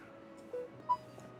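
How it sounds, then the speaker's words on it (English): A mobile phone's notification goes off as two short, soft electronic tones in quick succession, faint against a quiet indoor background. "Sorry, that's my phone."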